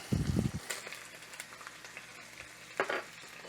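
Garlic dropped into a Misen Dutch oven while making chicken jardinière gives a short burst of frying at first, then a faint, low sizzle with occasional stirring clicks.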